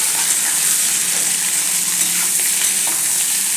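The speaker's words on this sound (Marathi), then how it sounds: "इथं मी 1 मिनिट ही भाजी अशी व्यवस्थित मिक्स करून घेतली आहे" Potato bhaji with mustard seeds and cumin being stirred in a hot pan, a steady loud sizzle and frying hiss throughout with soft scraping of the spoon, no voices.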